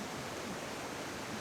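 Water flowing over rocks in Wyming Brook, a steady broadband rush that stays even and continuous throughout, with no voices.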